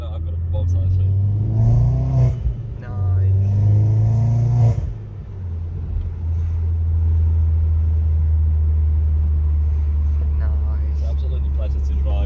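Loud, close drone of a Vauxhall Corsa D VXR with a 1.6 turbo engine and exhaust, which rises on two short revs before settling into a steady low rumble while people talk over it.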